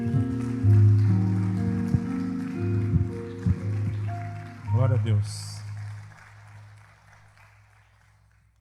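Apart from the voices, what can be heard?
congregation applauding in church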